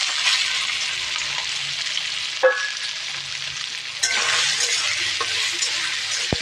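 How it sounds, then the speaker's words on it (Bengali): Soaked, squeezed soybean chunks frying in hot oil, a steady hiss of sizzling with a few sharp clinks and scrapes of a utensil against the pan, no talk. "এই সোয়াবিনটাই আমি এই তেলের মধ্যে দিয়ে ভেজে"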